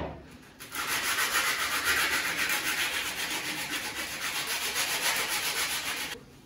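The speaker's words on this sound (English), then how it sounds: "That was 40 sandpaper, that is a little strong." Continuous rough scratching of coarse 40-grit sandpaper rubbed rapidly back and forth on mahogany, close and steady for several seconds.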